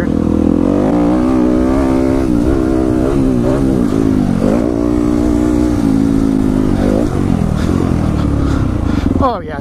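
A Yamaha WR dirt bike rides a motocross track, its engine revving and droning loudly throughout with rising and falling pitch as the throttle changes.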